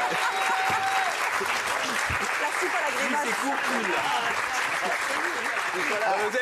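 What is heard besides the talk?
audience applause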